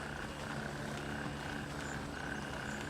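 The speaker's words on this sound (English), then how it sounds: "You can hear the frogs croaking." Frogs croak without a break in a riverside jungle in the video game Gray Zone Warfare, a dense, steady chorus of many overlapping calls that blends with a continuous hum of insects and night ambience.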